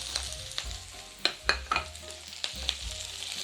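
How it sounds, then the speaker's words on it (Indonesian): Red chili and onions sautéing in a pan for shrimp in black pepper sauce, a steady sizzle broken by several sharp scraping stir strokes near the mic, with no talking. "Cabai merah kita tumis sampai aromanya wangi dan bawang bombaynya agak layu kecoklatan"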